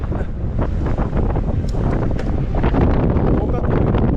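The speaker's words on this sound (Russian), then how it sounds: "Капец, ветер, да, мешает." Strong wind roars and buffets the microphone on a Crimean coastal cycling route near Feodosia and Koktebel, a loud continuous low rumble with gusty fluctuations and faint voice-like fragments mixed in.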